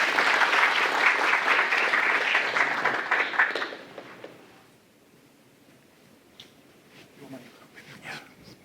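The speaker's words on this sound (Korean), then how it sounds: "큰 박수 부탁드리겠습니다" An audience at an academic award and opening ceremony claps loudly in a dense burst of applause for about four seconds, then the clapping fades out and a speaker begins talking over the hall's quiet.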